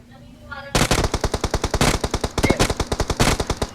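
Loud, rapid bursts of machine gun fire in a shooter video game, close and rhythmic shots following a brief quieter lead-in.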